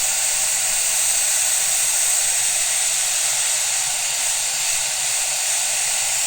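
A hot air rework tool blows steadily onto the USB port area of an Xbox One S console, a loud continuous airy hiss with no breaks and no talking.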